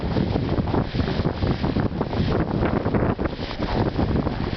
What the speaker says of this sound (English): Boy, the wind is pretty strong.